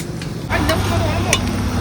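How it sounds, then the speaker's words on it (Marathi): Sliced onion sautés with masala spices in a pan for biryani, a close sizzle with scraping stirs that start up loudly after a brief quieter moment. "मस्त कांदा परतून घ्यायला लागलोय"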